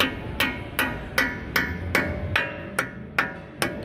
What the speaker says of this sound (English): tap on the face of the nut to get the CV axle to start to move back